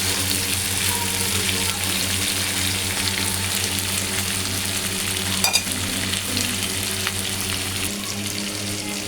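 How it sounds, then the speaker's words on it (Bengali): Catla fish fries in a pan over low heat, giving a loud, continuous close sizzle with occasional small crackles and stirring noises throughout. "আস্তে জালে মাছটা এইভাবে করে ভাজি করবেন।"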